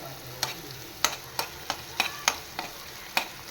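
Onions frying for pav bhaji are stirred in a pan, with a steady low sizzle broken by about eight sharp spatula scrapes and knocks at an irregular rhythm, close up.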